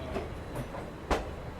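The Rajkot–Delhi Sarai Rohilla train rolls past with a steady rumbling clatter of wagons on rails, a sharper wheel clunk standing out near the end, heard from close trackside.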